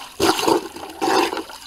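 Laundry being agitated by hand in rain water for an off-grid wash, two sloshing, splashing bursts of water about a second apart, close and fairly loud with no talking.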